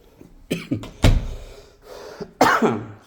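Several coughs in quick succession, close and fairly loud, with a harsher burst near the end and breathy pauses between.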